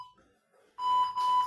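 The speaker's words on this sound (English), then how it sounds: "I'm going to set the timer." An exercise interval timer gives a clear, steady electronic beep, a bright sustained tone that starts partway through and holds to the end after a faint, quieter opening.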